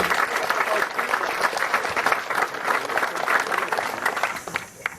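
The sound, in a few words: audience applause at Boy Scout camp anniversary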